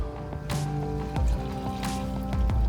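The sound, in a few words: transmission oil draining from a truck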